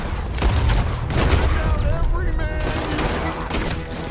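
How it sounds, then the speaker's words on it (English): Pistol gunfire from a video game set on Guarma island rings out in loud, dense volleys of overlapping shots across the whole stretch, with voices faintly mixed in. "Tengok pistol memang mantap."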